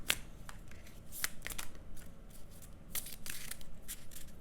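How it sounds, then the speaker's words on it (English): Tarot cards being shuffled by hand in a quiet room, a run of crisp riffling and slapping bursts with short pauses between, close and fairly loud. "I don't even know why I'm shuffling."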